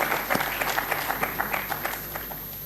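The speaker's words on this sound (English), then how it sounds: "please let's give a big round of applause to the Professor Madhav Desai, sir" Audience applause at the grand finale of a robotics competition, a steady patter of many hands clapping for a judge being introduced. The clapping is fairly loud and sustained, then gradually thins out toward the end.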